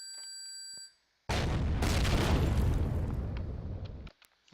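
A fuel tank blowing up in the space survival game Empyrion: after a brief tone and a moment of silence, a loud, sudden blast rolls into a long rumbling roar that fades out over about three seconds.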